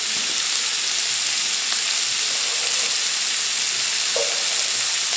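Previously cooked onions fry in a pan for a 1970s-style Salisbury steak, giving off a steady, loud, even sizzle throughout, with no voices.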